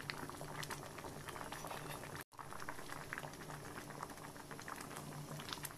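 Lentil dal with coriander leaves simmering in a pot, a steady close bubbling and popping that runs throughout with one brief dropout partway through.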